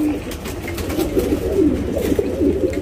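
A male Sabja racing pigeon coos close by in a low, throaty, bubbling run of murmuring notes, continuous and fairly loud over faint background noise.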